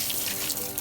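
Water sprays steadily onto a motorbike during a wash, a close, continuous broadband hiss that holds without a break.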